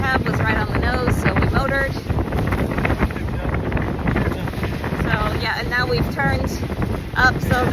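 Wind buffeting the microphone aboard a sailboat underway in Biscayne Bay, a steady loud rushing roar with water noise, while someone speaks over it throughout.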